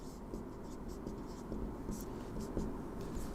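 A pen scratches steadily across paper or a board, close and soft, as a code fix is written out by hand.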